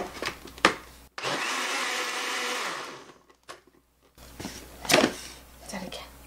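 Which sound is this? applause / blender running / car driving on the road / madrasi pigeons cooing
blender running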